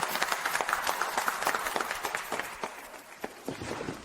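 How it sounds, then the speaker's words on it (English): Applause from a gathered crowd at an industry celebration, scattered clapping at moderate distance with uneven bursts, fairly faint overall. "Let's give a warm round of applause"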